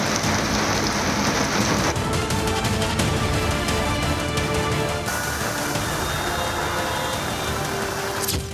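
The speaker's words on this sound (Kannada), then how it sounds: "ಸಿಲಿಕಾನ್ ಸಿಟಿ ಬೆಂಗಳೂರಲ್ಲಿ ಕಳೆದ 2 ದಿನಗಳಿಂದ ಮಳೆ ಆರ್ಭಟಿಸ್ತಾ ಇದೆ." Heavy rain lashes Bengaluru, a dense steady roar of downpour on streets and surfaces that runs loud and unbroken throughout, with no voices.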